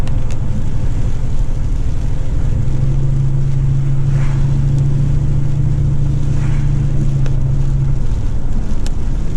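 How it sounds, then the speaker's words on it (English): Loud, steady roar of Hurricane Florence's strong wind, gusting over 45 mph, buffeting the microphone, with a constant low rumble and a dense hiss of rain underneath; no voices. "the wind is still kicking"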